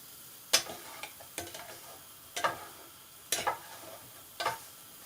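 Chicken pieces frying and browning in a pan, with five sharp, evenly spaced bursts of scraping and sizzling over a quiet, steady background hiss.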